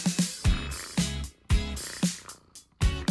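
A cat purrs close by in a series of soft, rumbling pulses that rise and fall with each breath, repeating steadily with no talking.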